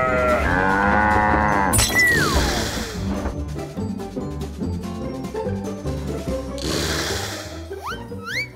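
Cattle moo loudly as an Allosaurus chases them in Jurassic World: Fallen Kingdom, long bellowing calls over a busy backdrop of crashes and sweeping whooshes.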